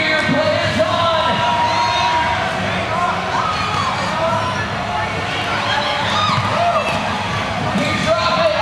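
Noisy crowd cheering on players at a college game, a steady dense roar of shouts and whoops at close range with an announcer-style voice mixed in.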